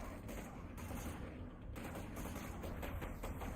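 Dense gunfire from a sniper battle in the video game Mass Effect, a continuous rattling barrage of shots, loud and close, with no pause.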